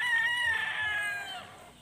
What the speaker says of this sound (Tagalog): pinasilip ko na itong mga manok natin.